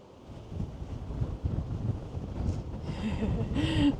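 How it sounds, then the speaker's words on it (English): Strong wind on an exposed hilltop buffeting the microphone, low gusty rumble rising and falling throughout, with a person speaking briefly over it. "the wind is blowing pretty strong up here"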